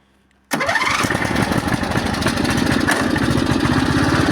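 A tractor engine starts abruptly after a moment of silence, then runs loud and close with a rough, steady chugging rumble under slight throttle.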